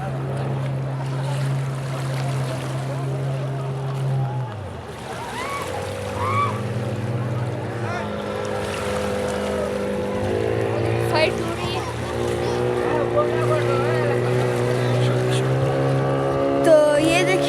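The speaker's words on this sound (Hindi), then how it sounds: "और ये देखें कश्तियाँ" Boats moving at speed on a lake near Urak outside Quetta, a steady engine drone with shifting pitch running throughout, close and continuous, with people talking over it.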